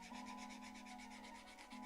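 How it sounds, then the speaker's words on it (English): Rapid rhythmic rubbing of a medium-grit sanding stick on a plastic part of a 1/35 Takom T-54B scale model tank, close and quiet, with fast even back-and-forth strokes. "I'm going to go with the sanding stick now"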